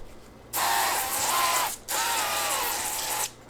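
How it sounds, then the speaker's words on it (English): Two sustained hissing bursts of olive oil spray hit asparagus spears, each lasting over a second, close and crisp with a short pause between them. "we'll need to spray it with some olive oil"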